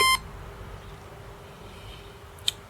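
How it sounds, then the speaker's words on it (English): A short electronic beep sounds at the very start as an Acorn Pocket Book II handheld computer powers on, followed by quiet room hiss and a faint second chirp near the end. "Well, we had a beep."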